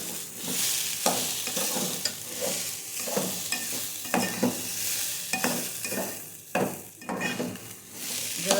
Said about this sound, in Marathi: मला फक्त मस्त छान परतून घ्यायचं भात तांदूळ आणि डाळ वास आला पाहिजे त्याचा